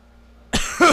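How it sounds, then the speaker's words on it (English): A short burst of two rough coughs after near silence, the second slightly louder, close and dry, from a voice in a pirate-themed game setting. "I just have a bit of a cough."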